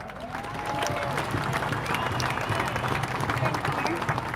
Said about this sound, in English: Our next speaker, a big round of applause, is Kate Lancashire